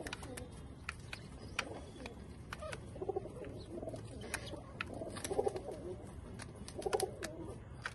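A tournament racing pigeon coos nearby in about three low, throaty bursts spaced a couple of seconds apart, over a constant hiss of background noise with occasional light clicks.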